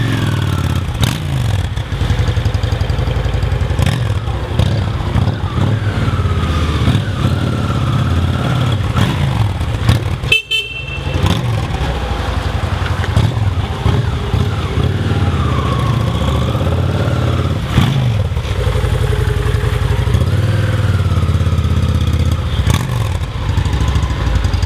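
A 2006 Honda Shadow Aero 750 motorcycle engine idles close by, its steady low throb continuing throughout with light mechanical clatter and a brief sharp knock near the middle.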